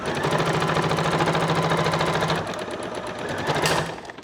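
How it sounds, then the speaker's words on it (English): Sewing machine stitching lace for a christening gown, a fast, close mechanical chatter running steadily for about two seconds, a brief slowdown, then another short burst before stopping. "Now I'm just going to sew the lace together"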